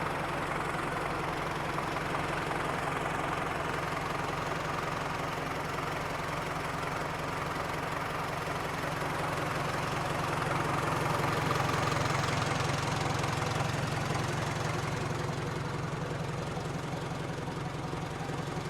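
A modified tractor engine idles steadily with a deep throbbing rumble and knocking chatter, continuous and fairly close, with no clear talk.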